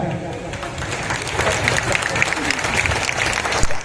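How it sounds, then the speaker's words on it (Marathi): A crowd applauds at a Dhulivandan festival poetry event, dense clapping building steadily and sounding fairly close, with a few voices mixed into the applause. "या जन्मातल्या टाळ्या या जन्मात संपून टाका"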